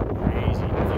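Strong gusty wind buffets the microphone outdoors in the Rocky Mountains, producing a loud, rumbling roar that fills the whole moment.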